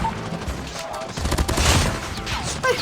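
An AK117 assault rifle fires in the mobile shooter Call of Duty Mobile, a short dense burst of rapid shots heard close up.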